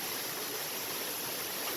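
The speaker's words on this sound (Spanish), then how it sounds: "ya llegamos a la cascada que tomó mucho tiempo a venir" A waterfall in Malibu, reached after a long hike, gives a continuous, even rush of falling water, close and steady with no voices over it.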